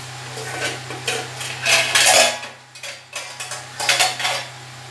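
A metal lid clatters onto a cooking pot of masoor dal with pointed gourd on a gas stove, a series of clanks and scrapes in uneven bursts, close and fairly loud.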